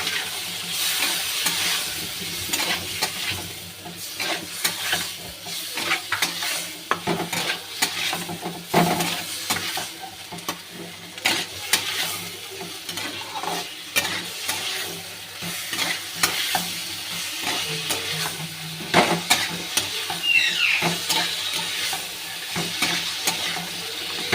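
Pomfret fish and potato masala stir-frying in a pan gives a continuous close sizzle with frequent scraping stirs and soft utensil knocks, no voices over it.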